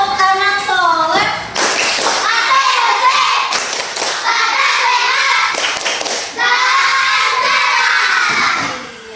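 A classroom of young pupils loudly shouting the tepuk anak soleh chant in unison, rhythmic claps and cheers throughout, near and energetic with a brief pause midway.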